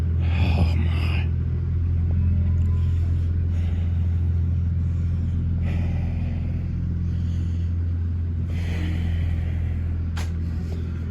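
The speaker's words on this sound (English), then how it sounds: "This old silver truck is kind of rough," An old, rough-running silver pickup truck with 192,000 miles, started on a farm after freezing rain, idles with a steady low rumble throughout, with faint scattered sounds on top.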